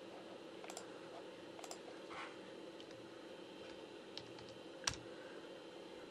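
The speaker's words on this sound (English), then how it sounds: "We type" Keys being typed on a computer keyboard while entering a capacitor part number during an iPhone 12 water damage repair, with a few short bursts of quiet clicks at a distance over steady low background hum.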